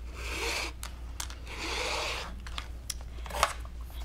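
Rotary cutter slicing through quilting fabric strips on a mat: two long rasping cuts with a few short ticks and clicks between them, close and alone without talk.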